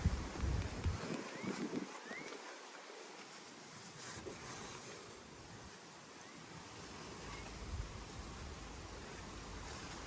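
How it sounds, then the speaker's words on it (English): Gusty wind buffets the microphone outdoors beside a 2022 Thor motorhome, loud broadband rumble at first, then a steadier moderate rush that swells again near the end, with no talking. "Fighting the wind here."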